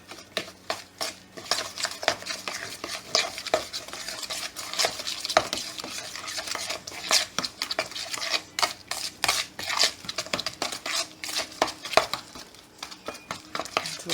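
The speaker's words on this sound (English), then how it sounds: "1 egg. And 1/3 cups of milk. I'm going to stir this up." A utensil stirs an egg and milk batter in a bowl, rapid repeated clinks and scrapes against the bowl at close range, continuing steadily throughout.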